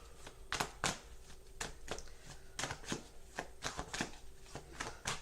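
Oracle and tarot cards being handled and shuffled close up, a run of crisp riffles and snaps at an irregular pace with short pauses between bursts.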